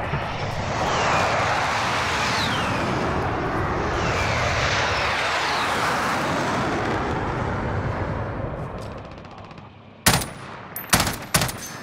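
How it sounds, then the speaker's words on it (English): Precision airstrike jets in Call of Duty Plunder roaring loudly overhead for about ten seconds in a sustained, swelling engine rush, then a few sharp, loud bursts of impacts or gunfire at the end. "Be advised, friendly precision airstrike,"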